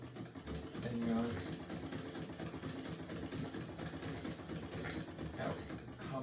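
A hand-cranked Singer 99 sewing machine stitches steadily throughout, a continuous close mechanical whirring with faint rhythmic clicking, with a little background noise underneath.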